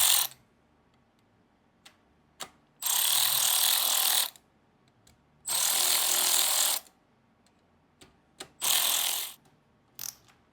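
Hand ratchet running down 5/16 12-point bolts on a 2025 Harley-Davidson Road Glide 117 oil pump, heard as several close bursts of rapid pawl clicking, each one to two seconds long, separated by quiet gaps and small taps.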